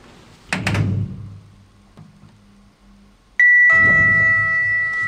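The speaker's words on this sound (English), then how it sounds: "I wanted the chime." Travelodge lift chime, a clear bright electronic ding that rings out near the end and lingers, preceded by a couple of thuds and soft mechanical clunks of the lift.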